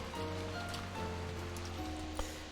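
Steady rain pattering on a surface with blowing wind in the Umineko visual novel, a continuous dense hiss under a sustained low musical drone, with one brief knock near the end.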